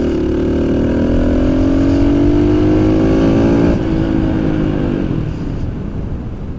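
A Bajaj Pulsar NS 200 motorcycle rides steadily, its mid-pitched engine drone loud and close, the pitch rising slowly before easing off and fading slightly near the end.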